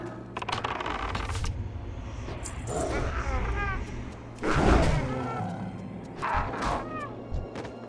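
A pet cat meows in WoW Classic Hardcore, with a couple of short game meows amid busy game effects and thuds, while someone talks over much of it.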